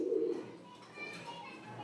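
Pigeons coo inside a room where a few hundred birds are kept, a close, soft warbling coo at the start fading to quieter murmurs, with faint background voices.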